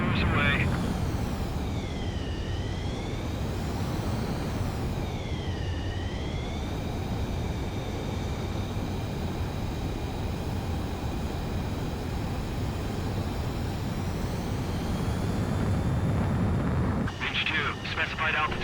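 An F-14 jet takes off in Ace Combat 7, its engine roar holding steady and loud throughout with whining tones sweeping up and down, while a radio voice speaks over it.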